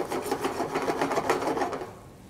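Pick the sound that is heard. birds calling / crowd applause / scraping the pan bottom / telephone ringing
scraping the pan bottom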